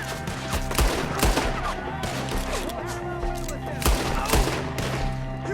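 A Red Dead Redemption 2 shootout with dense gunfire, repeated sharp shots and heavier blasts cracking over a constant loud din of battle noise.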